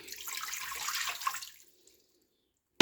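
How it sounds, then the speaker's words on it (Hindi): A glass of water poured into a cooking pot (handi) while making spinach and potato curry: a steady splashing gush for about a second and a half that stops abruptly, followed by silence and a short knock. "तो सबसे पहले इसमें ऐड करूँगी 1 गिलास पानी।"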